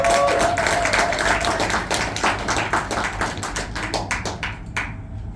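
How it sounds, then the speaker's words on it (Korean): Audience applause at a Korean book launch and book talk, a dense patter of many clapping hands that stays loud, then loosens into scattered claps before stopping. "아름다운 목소리로 최고의 축가를 들려주신 정정관 대표님께 다시 한번 큰 박수 부탁드립니다"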